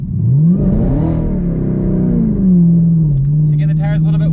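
A Camaro ZL1 1LE launches from a standstill, its engine note rising sharply, then settling into a strong steady drone as the car pulls away.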